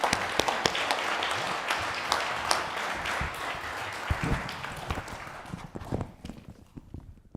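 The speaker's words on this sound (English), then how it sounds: "let's give the panel a round of applause." An audience claps steadily for several seconds for a panel at a live event, the applause thinning out and fading toward the end.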